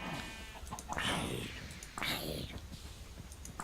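Sheep in Minecraft bleat in two drawn-out, quivering cries about a second apart, heard close over a soft game background.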